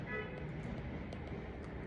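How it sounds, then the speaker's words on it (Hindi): Car horn tooting on a busy street, a steady honk with harmonic tones layered over constant traffic rumble, fairly close and fairly loud. "एक तो ये हॉर्न मार के ना दिमाग कैसी दही करते हैं"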